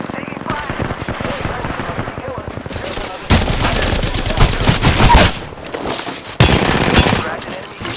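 Rapid automatic gunfire in the video game Apex Legends, loud bursts of firing with brief pauses between volleys and heavier stretches of sustained shooting.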